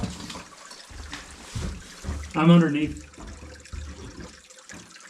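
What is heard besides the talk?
stream of water flowing in a cave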